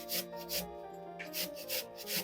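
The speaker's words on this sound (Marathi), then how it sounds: "तुकडे करून घेतलेला कोबी आहे तो असा मध्यम आकाराच्या किसणीवर किसून घ्यायचा आहे." Cabbage is grated on a medium grater, giving a quick, even series of close, rasping scrapes in a steady back-and-forth rhythm with no talk.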